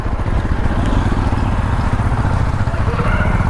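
A Hero Xpulse 210 motorcycle churning down into a muddy ditch on a rough path near Kaviyam Falls, its engine a loud, close, continuous low rumble with clattering throughout.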